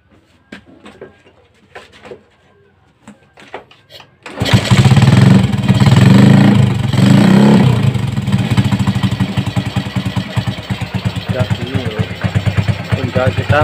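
An old Honda Grand/Supra motorcycle engine, just rewired with a CDI, is kick-started after a few quiet clicks, then catches and runs loudly nearby with a steady, slightly uneven idle.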